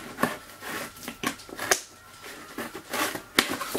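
Cardboard subscription box being cut open with repeated sharp scraping and slicing strokes, close and fairly loud, uneven in rhythm with brief pauses between cuts.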